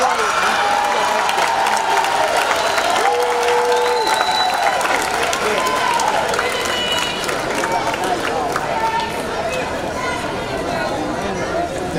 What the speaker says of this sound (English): turn, face your family members, and give them a round of applause